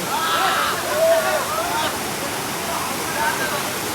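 A waterfall roars as a steady, broad rush of falling water close by, with people's voices talking over it.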